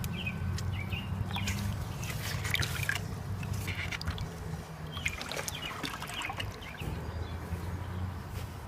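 Worm tea is stirred in a bucket on its fifth day of brewing. The liquid sloshes and trickles close by with irregular splashes and drips, fairly quiet throughout.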